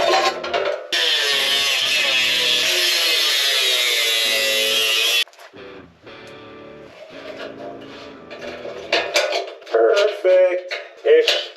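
An angle grinder cuts metal for a homemade transmission cover, giving a loud, steady, high-pitched whine that runs for several seconds. It then stops, and shorter scraping and clattering bursts of metal handling follow.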